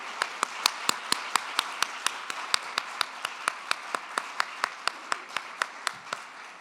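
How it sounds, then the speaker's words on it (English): A single person claps alone at an evening panel event, about twenty-five sharp evenly spaced claps over a low steady room noise, close and distinct. "Let's give another round of applause to Kayat and Lydian"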